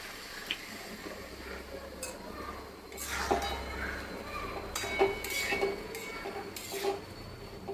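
Broad beans being stirred in a pan after a sprinkle of water, a spoon scraping and clinking against the metal with faint wet squishing, close, in uneven strokes.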